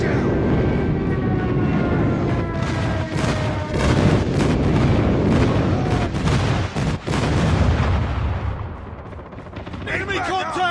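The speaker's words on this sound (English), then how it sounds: "airstrike incoming" Airstrike explosions in COD Mobile: continuous loud booms and gunfire-like blasts rolling over several seconds, dense and overlapping, before they fade and give way to quieter game sounds near the end.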